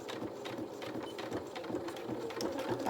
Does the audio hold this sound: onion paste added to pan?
no